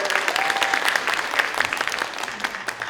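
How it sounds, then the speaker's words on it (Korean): Forum attendees applaud an activist speaker at a movement forum's opening ceremony, a brief, dense burst of clapping from a crowd at moderate volume. "큰 박수 부탁드립니다"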